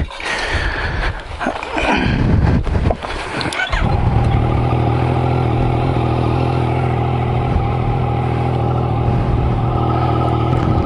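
Close-up motorcycle engine at a campground in a natural recreation forest cranks and sputters to life, then settles into a loud, steady idle that runs on continuously.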